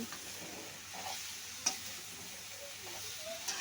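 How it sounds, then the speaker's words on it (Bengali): Shrimp and potatoes sautéing for a curry in a village kitchen: a soft, steady sizzle and frying hiss, broken by a couple of light utensil ticks against the pan, close and quiet, with no voices. "আলু দিয়া চিংড়ি মাছ দিয়া তো কষাই নিতেছি"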